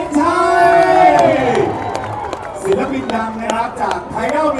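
A lively crowd at a mini concert cheers and shouts loudly, with voices whooping and calling over one another throughout.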